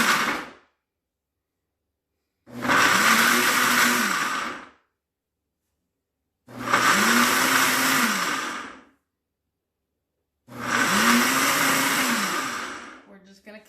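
A blender purees fresh coconut for coconut milk in three loud bursts of roughly two to three seconds each, with silent pauses between them as the motor starts and stops.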